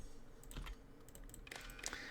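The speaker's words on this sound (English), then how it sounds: "Unrelated typing happened" Quick, uneven bursts of clicking on a computer keyboard, close and fairly quiet, with a denser flurry of keystrokes near the end and no voices.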